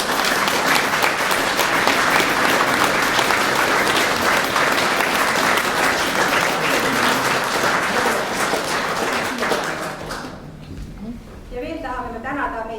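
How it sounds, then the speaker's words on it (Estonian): Loud, dense applause from a concert audience at a folk music ensemble's concert, sustained for about ten seconds before dying away, after which a voice begins speaking. "Kõva aplaus!"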